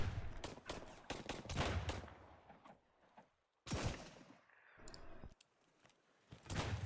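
Gunfire in the survival video game Sunkenland, bursts of sharp rapid shots in quick clusters, loud and close, separated by brief lulls, with another lone crack and a final burst later.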